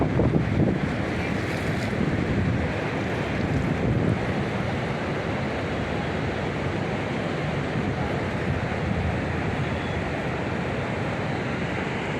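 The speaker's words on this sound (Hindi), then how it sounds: "ये किनारे से टकरा कर बहाव देखिए कितना फास्ट है।" Fast-flowing Ganges river water at Haridwar or Rishikesh surges against the bank in a loud, continuous roar of rushing, splashing water, steady throughout with no voices.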